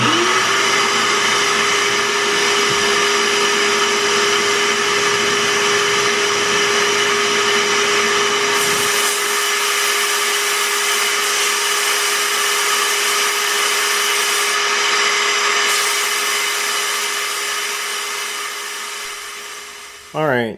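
A suction-fed sandblaster with a plastic pickup tube blasts rust off an old piece of metal, a loud steady hissing rush with a tonal whine that runs nearly twenty seconds, its low rumble dropping away partway through.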